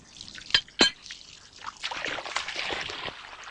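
Spring water piped 300 metres to a mountain refuge, trickling and dripping from the pipe end: two sharp close drips, then a continuous splashing flow, fairly near.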